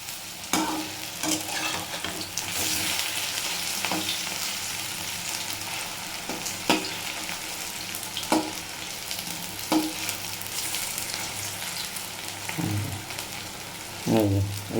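Dried fish (shutki) frying in a pan, a steady sizzle broken by repeated scraping strokes of a spatula as it is stirred and turned, close and fairly loud.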